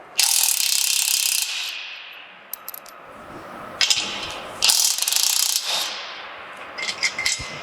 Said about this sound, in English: So now I'm just going to remove this rear control bracket. It's got a 3/4 inch nut on the outside.